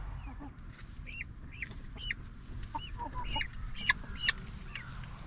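Egg-laying chickens in a chicken tractor on a small pasture farm cluck and call in repeated short bursts, moderately close, over a low steady background rumble.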